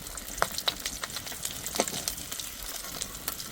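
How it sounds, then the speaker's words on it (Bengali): Pieces of rui fish fry in hot oil with a faint, steady sizzle, broken by a few soft pops and crackles. "মাছগুলো ভালো করে ভেজে নিয়েছি, এখন তুলে নেব।"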